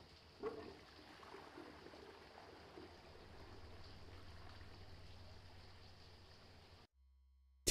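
A toilet flushes in a shower-themed horror video game, a steady rushing, trickling water sound that runs for several seconds at moderate level, then cuts off abruptly.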